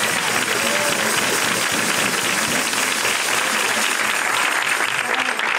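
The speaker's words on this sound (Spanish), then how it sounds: "a los cuales pido un aplauso, que están por ahí también." A crowd applauds at a fifteenth-anniversary celebration of a parranda folk music group in Manilva, with steady dense clapping throughout and faint voices blended into the noise.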